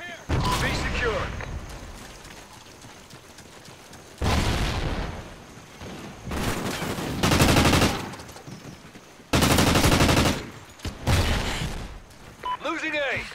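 Several loud bursts of automatic gunfire and explosions in a Call of Duty Ghosts Domination multiplayer match, separated by quieter stretches, with voice callouts heard between and under them.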